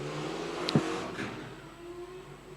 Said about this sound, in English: As we get ready to launch, up come the revs.